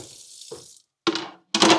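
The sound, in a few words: beef being added to a hot pot for soup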